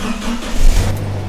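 Toyota Hilux engine starting and running, a loud close crank that catches into a steady idle rumble within about a second.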